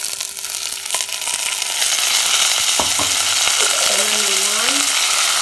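Vermicelli noodles frying in oil in a pot on a gas stove, a steady loud sizzle with stirring clatter and a few sharp clinks, no talk.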